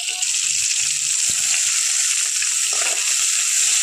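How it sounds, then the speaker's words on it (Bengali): Tomatoes and capsicum frying in hot oil in a pan, a steady bright hiss of sizzling that stays constant and close throughout, with faint low knocks and murmurs beneath. "খুব ভালো করে এটাকে আমি তেলের মধ্যে ভেজে নেব"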